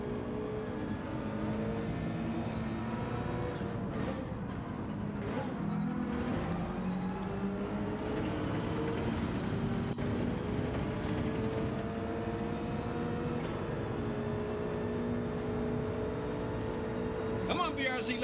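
A Subaru BRZ races in Gran Turismo 7, heard from the cockpit: a continuous engine drone rises and falls with revs through gear changes, steady and moderately loud, with other cars faintly around it.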